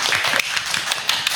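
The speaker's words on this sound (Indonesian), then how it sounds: "Tepuk tangan untuk tamu kita" A small group at a school event claps quickly and irregularly, sharp close hand claps forming brief, lively applause for a guest.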